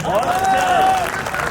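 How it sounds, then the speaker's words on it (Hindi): An audience at a Hindi poetry recital (kavi sammelan) breaks into a brief burst of applause. Dense, close clapping is mixed with a voice or whistle-like tone. "तालियां कौन बजाएगा?"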